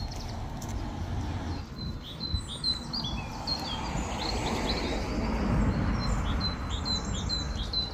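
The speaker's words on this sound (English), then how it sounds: "So can you hear what birds these are?" A robin sings in a spring village, its high, quick phrases repeating at moderate distance over a steady outdoor background hum.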